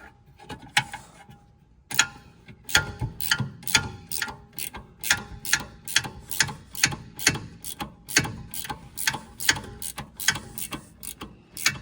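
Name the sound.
gear ratchet wrench tightening a nut on brake assembly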